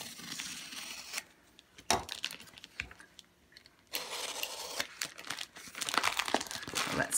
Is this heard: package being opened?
yes